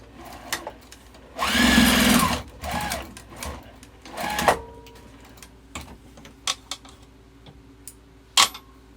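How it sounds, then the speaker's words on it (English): A sewing machine stitches down the side of a fabric wallet made from fat quarters, a loud steady run of whirring for about a second followed by shorter bursts and scattered clicks of fabric handling. "we are going to stitch down the"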